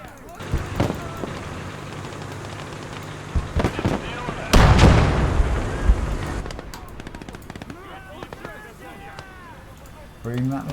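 Land mines detonate in a war video game, a heavy boom at mid-clip followed by scattered blasts, bursts of machine-gun fire and sharp cracks, with someone talking over the battle noise.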